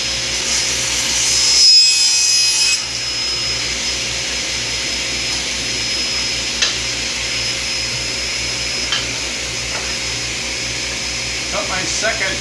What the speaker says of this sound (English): Now I'm going to cut the angle on the leftover piece.